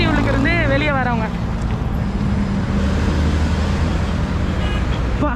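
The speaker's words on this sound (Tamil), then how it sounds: "பா என்ன டிராஃபிக்கு" Heavy road traffic in Colombo near Port City forms a dense, constant roar of engines with a brief high squeal early on, while a person talks over the din.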